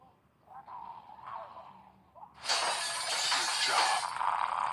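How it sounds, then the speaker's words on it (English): A bat smashes through a glass window in The Walking Dead video game, producing a sudden loud shatter that rings on as shards scatter, coming after a quieter stretch of muffled movement. "Use the bat to shatter that window so you can reach in"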